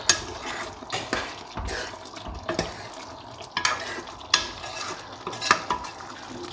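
Butter chicken stirred in a pan after a sprinkle of kasuri methi, with a spoon scraping and clinking against the metal in irregular strokes over a soft sizzle; close and moderately loud, no talking.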